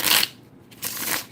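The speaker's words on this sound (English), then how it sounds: "I cannot respond because I am shuffling cards" Tarot cards being shuffled during a live reading, two bursts of crisp riffling and sliding, near and moderately loud, separated by a short quiet gap.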